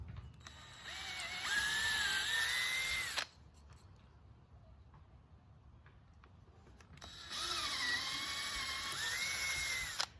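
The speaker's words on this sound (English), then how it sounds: "mark a spot on each one where I'm going to be drilling those holes" Two loud bursts of an electric drill whirring as it drills holes in wood, each about three seconds long, separated by a quiet pause in which faint clicks can be heard.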